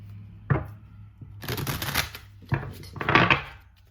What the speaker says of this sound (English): It's me shuffling the cards.